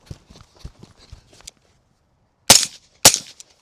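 Two suppressed 5.56 rifle shots, each a sharp, loud crack, land about half a second apart after a stretch of quieter shuffling and movement sounds.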